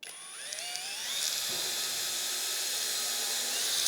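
A power drill pre-drills a hole in wood on an attic access job, spinning up with a rising whine and holding a steady, fairly loud buzz close by.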